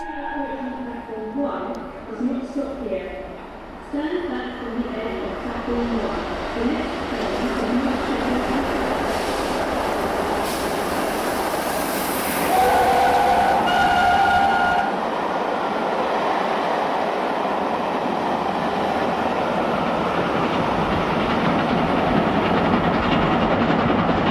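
Train rumbling along with steady clattering wheels and a brief squeal, people talking over the noise inside the carriage.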